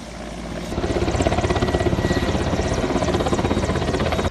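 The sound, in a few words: Indian Air Force helicopters on patrol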